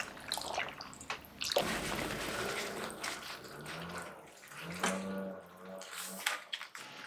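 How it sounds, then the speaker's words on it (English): Fresh tap water runs and splashes as dyed fabric, treated with ferrous sulphate, is rinsed under the faucet; a steady close wash of water with sloshing and drips throughout. "Then we remove the fabric and wash it with fresh water from the tap."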